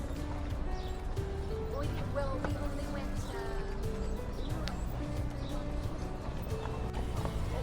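Horse carriage hooves clip-clop in a steady rhythm on pavement in New York, with people talking quietly over it and occasional birds chirping in the background.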